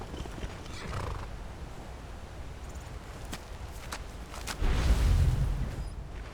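A horse whinnies amid rumbling game-style ambience, with scattered hoof clops and a louder thumping burst near the end.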